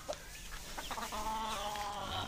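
Backyard chickens raised since lockdown cluck in a low, busy chorus near their water bucket, steady and close with no talk over them.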